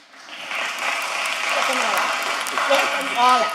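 An audience claps steadily at a commission meeting, a sustained wash of applause lasting several seconds, with faint voices mixed in.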